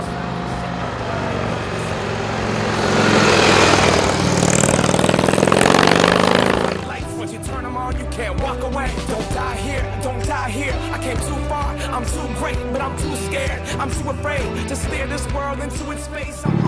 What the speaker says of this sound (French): Au ralenti, du reste, on peut presque compter les coups de piston, puisque ce ralenti est à 750 tours minute.